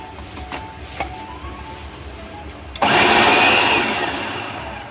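A Hamilton Beach food processor bursts into a loud, steady whirring roar partway through while chopping pineapple, following a quieter stretch of faint kitchen background.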